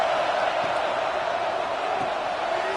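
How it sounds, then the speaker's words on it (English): A college football stadium crowd at Clemson versus South Carolina roars steadily for the defense during a red zone stand, a dense, loud, sustained wall of noise with faint scattered shouts. "here comes the noise. This crowd is trying to inspire this defense to make a big red zone stop"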